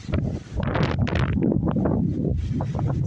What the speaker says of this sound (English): Very windy today, you know.